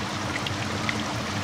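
Flowing water in a fantasy video game scene, a steady broadband stream or trickle running continuously at moderate level with faint droplet-like glints, alone with no talk.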